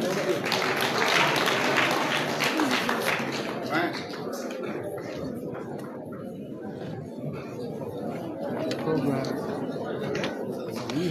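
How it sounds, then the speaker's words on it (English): Audience applause for a graduate at a youth empowerment graduation ceremony in Liberia, dense clapping loudest in the first few seconds, then thinning into a steady murmur of crowd chatter and talk. "Abel Johnny, please clap for him."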